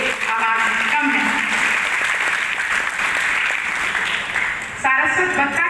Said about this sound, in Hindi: जोरदार तालियां, ये आवाज कम है।